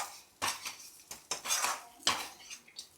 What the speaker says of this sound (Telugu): ఇదైతే ఇప్పుడు నేను మూత పెట్టేశాను.